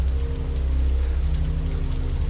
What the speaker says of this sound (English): it started drizzling